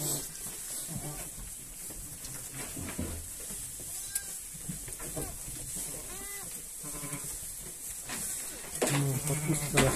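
A lost, bewildered ewe bleats repeatedly among a flock with newborn lambs, loud cries over a dense, noisy farmyard background, with faint talk.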